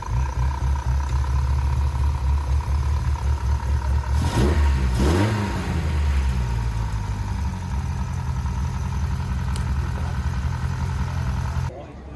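A Triumph Dolomite Sprint engine runs at an outdoor car gathering in Bathurst while its carburettor mixture is adjusted. It holds a steady, close idle and gives one brief rev midway, with voices chatting faintly nearby.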